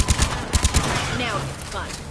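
Mass Effect 3 turret gunfire crackles in a quick burst of loud rapid shots, then gives way to whooshing sci-fi effects and a voice speaking over the battle noise.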